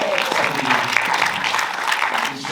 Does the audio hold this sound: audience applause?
yes